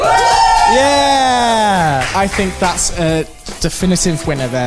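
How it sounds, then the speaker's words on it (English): Children in a studio audience whoop and shout in a loud burst of cheering for the best-wrapped Christmas present, with a presenter talking over the noise as it dies away. "give us a cheer"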